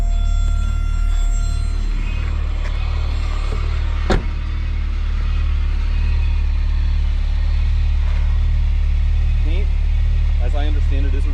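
A 1982 BMW 320is E21 idles with a steady low, close rumble, broken by a sharp click and a few brief mechanical chirps near the end.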